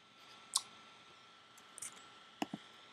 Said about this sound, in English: I'm just not double clicking like I used to double click.